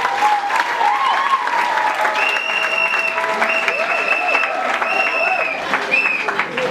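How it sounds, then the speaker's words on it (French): Loud, sustained applause from a wedding audience fills the room as the groom is welcomed, with a voice speaking over the clapping throughout. "je vous prie d'applaudir très fort pour le prince de la soirée"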